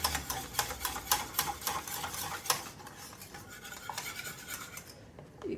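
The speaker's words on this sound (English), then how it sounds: "Whisk that in there." A whisk stirs flour into gravy in a pan, giving a fast, steady rapid scraping and clinking against the metal that runs throughout and thins out near the end.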